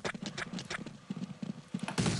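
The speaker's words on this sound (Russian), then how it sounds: "Слышу топот." Rapid footsteps thud and patter in a Counter-Strike match, a steady run of quick, fairly faint steps over about two seconds with a louder burst near the end, no talking.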